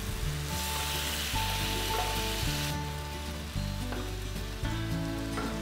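Shrimp frying in a hot pan over high heat for a shrimp and tuna pasta sauce: a steady, close sizzle with soft bumps of stirring every second or so, and no voices.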